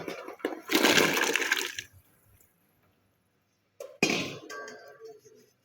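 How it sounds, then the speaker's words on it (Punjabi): Chopped vegetables for mixed pickle, carrot, cauliflower and radish, tipped into a container in two moist, rattling pours separated by a short pause, close and moderately loud with no speech. "ਹੁਣ ਇਹ ਸਬਜ਼ੀਆਂ ਨੂੰ ਇਹਦੇ ਵਿੱਚ ਪਾਉਨੇ ਆ ਵੀ ਪਾ ਦਿੰਨੇ ਆ"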